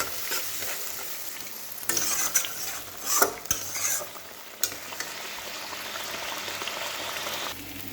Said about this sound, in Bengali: স্বাদের জন্য একটু চিনি দিয়ে মশলাটা আমি এখন ভালো করে কষিয়ে নেব।